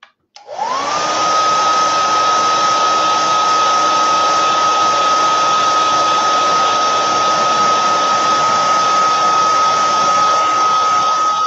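A hair dryer runs steadily at close range to dry a craft project, switching on with a short rising whine and then holding a loud, even blowing roar with a constant high tone for more than ten seconds, with no talking.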